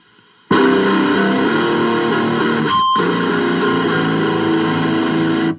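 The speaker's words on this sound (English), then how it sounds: "Okay, here's the overdrive." Overdriven electric guitar, an ESP Snakebyte through a Boss SD1 overdrive pedal and Marshall MG10 amp, starts abruptly and rings on with sustained gritty chords, a short gap near the middle, loud and close.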